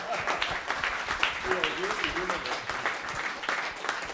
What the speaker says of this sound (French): On applaudit bien fort Hugo